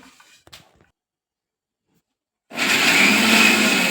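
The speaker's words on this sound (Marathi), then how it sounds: "हिरवी मिरची आणि लसूण हे असं मिक्सरच्या भांड्यात कोळडं दळून घ्यायचं" A short pause with faint knocks, then an electric mixer grinder grinding green chillies and garlic coarsely whirs on loudly and keeps running at a steady, close roar.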